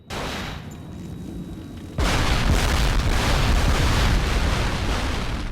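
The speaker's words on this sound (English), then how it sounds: "I'm gonna shoot the barrels and I'm gonna blow that fucker up" Explosive barrels shot and blown up in the survival horror game Cold Fear: a sudden heavy blast erupts and leaves a loud, sustained roaring rumble that fills the rest of the moment without voices.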